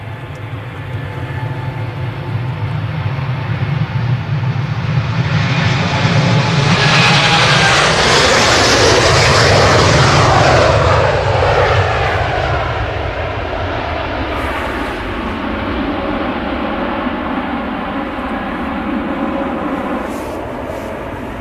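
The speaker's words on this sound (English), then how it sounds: "So we have this TUI Dreamliner departure." A TUI Boeing 787 Dreamliner departs, its jet roar swelling loud and close to a broad peak mid-way before slowly fading into the distance.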